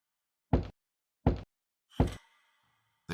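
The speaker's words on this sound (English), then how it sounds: "3 slow knocks." Three slow, solid knocks land about a second apart, close and deep, the last trailing into a faint ringing tail before a fourth thud begins.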